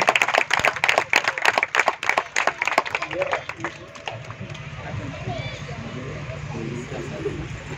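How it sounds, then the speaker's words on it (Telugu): An audience at a choir program claps in a quick burst of sharp, uneven hand claps that fades out after a few seconds, followed by a speaking voice and room murmur. "చప్పట్లు కొట్టండి."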